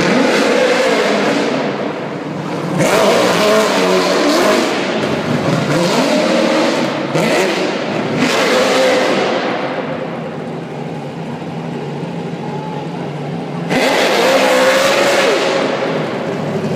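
Ford Mustang engine revving hard in repeated surges, loud and close, its roar rising and falling with brief lulls between bursts and a strong final rev.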